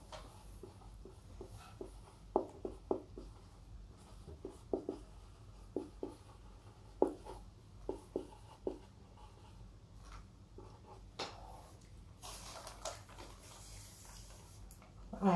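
Pen or chalk writing out a class-2 maths solution, a series of short scratchy strokes in irregular bursts across the span, close and moderately loud over quiet room tone, with no one speaking.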